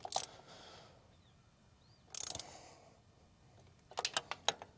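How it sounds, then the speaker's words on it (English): A ratchet works on a bolt of a big old Ford tractor. A few short clicking bursts come close by, separated by quiet gaps, ending in a quick run of sharp clicks. "I can turn this ratchet around forward and we'll be good to go."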